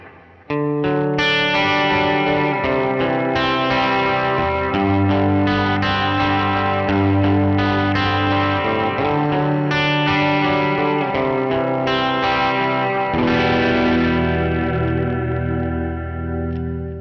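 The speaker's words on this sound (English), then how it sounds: "Let's hear it with a big reverb and delay." An electric guitar plays through an amp-replacement pedal with heavy reverb and delay, giving loud, continuous, distorted chords with thick echoing tails and no voice.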